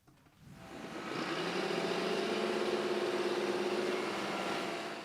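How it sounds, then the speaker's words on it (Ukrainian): A tractor engine drones steadily while sowing winter wheat in a field in Kharkiv region, Ukraine, fading in and then holding a constant mid-pitched hum at moderate distance. "Тракторист Микола Єфремов сіє озиму пшеницю в Базаліївці на Харківщині"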